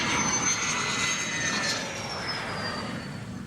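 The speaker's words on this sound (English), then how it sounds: "That's a very nice aircraft." Aircraft engine passing overhead outdoors, a steady broad roar with a faint whining tone that fades slightly toward the end, moderately distant and with no voices.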